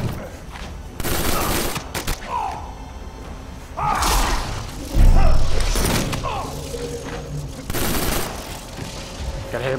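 Gunfire from the fighting video game Injustice, where rapid bursts of shots and heavy thuds mix with whooshing effects in a loud, busy stretch of game audio, and a person talks now and then.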